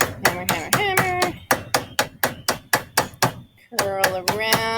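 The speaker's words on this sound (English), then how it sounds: "hammer across, and go back over what I already hammered" A hammer striking a metal cuff bracelet in a quick, steady series of sharp ringing taps, loud and close, with a brief pause before the blows resume.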